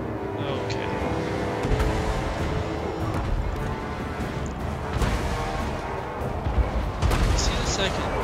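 Loud, chaotic battle din in the video game Total War: Warhammer II, with repeated heavy booms of cannon fire over shouting voices and a constant rumbling background.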